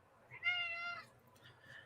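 A cat gives one clear, drawn-out meow, fairly faint and close, against a quiet room background, followed by a softer trailing sound.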